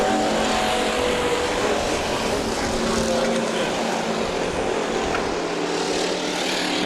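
A dense roar of factory stock cars racing on the Perris Auto Speedway dirt track, constant and broadband, with a crowd-like wash and indistinct talk beneath it.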